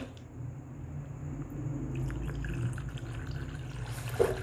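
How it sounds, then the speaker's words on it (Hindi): Water poured into green mint chutney in a kitchen while making tangy golgappa (pani puri) water, a soft continuous liquid pour and squish with a brief splash near the end, close and fairly quiet. "इसके अंदर पानी डालेंगे।"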